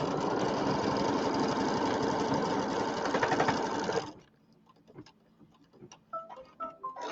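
A sewing machine stitches quilt block pieces for a pieced birdhouse square, running fast and evenly for about four seconds, then stops, leaving soft clicks and fabric handling.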